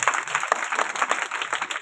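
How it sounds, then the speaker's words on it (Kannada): An audience at the closing ceremony of a religious discourse in a village applauds, a dense, fairly loud wash of many hands clapping through the whole short moment. "ಚಪ್ಪಾಳೆ ತಟ್ರಿ ಜೋರೆ"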